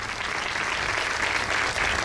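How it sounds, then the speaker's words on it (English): Sustained crowd applause at a Memorial Day ceremony as committee members stand, many people clapping loudly and evenly, with a low rumble of the outdoor setting beneath and no voices on top. "standing for a round of applause."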